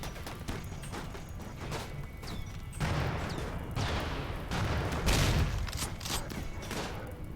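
Gunfire in the RimWorld video game rattles in a continuous barrage of sharp cracks and heavier booms, rising and falling in loudness throughout.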